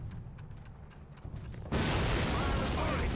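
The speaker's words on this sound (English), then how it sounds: "This cannon's about to go boom." A cannon firing in the World War II shooter Call of Duty, Brecourt Manor mission: faint battlefield rumble with distant pops, then a sudden loud blast that holds as a dense, sustained roar to the end.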